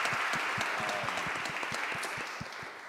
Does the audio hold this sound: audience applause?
yes